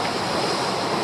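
Choppy tidal water churns steadily near a small fishing boat after strong winds, a continuous close rushing and sloshing of waves with no voices.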